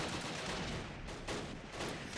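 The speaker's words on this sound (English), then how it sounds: "the MG infantry just needs to shoot a lot because they're taking fire" German machine gun infantry firing at the Arnhem rail bridge in the war strategy game Close Combat, a sustained stream of rapid automatic fire with a constant rattle and no pauses.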